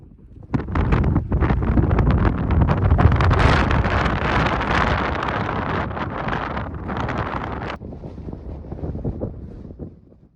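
Strong wind gusts batter the microphone on a cold, blustery day on open moorland paths near Kinder Plateau, a loud continuous roar that swells and eases before dropping away near the end.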